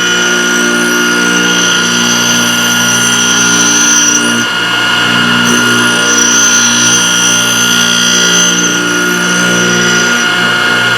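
A Thorvie AV-40 sharpening machine grinds a jointer planer knife with a steady, continuous motor-driven grinding hum that holds through several light forward and back passes.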